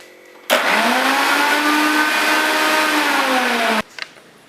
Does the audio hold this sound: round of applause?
no